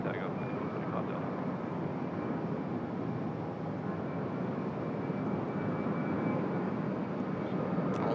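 An airliner rolls for takeoff on runway 34 left at Sydney Airport, its engines a steady, broad distant roar that holds level throughout, with no clear talk over it.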